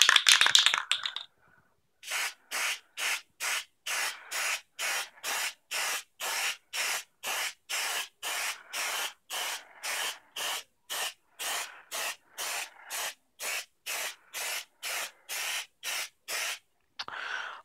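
Valspar primer spray paint hisses from an aerosol can onto an EVA foam katana blade in a long run of about two dozen short, evenly spaced bursts, close and crisp, following an opening rattle.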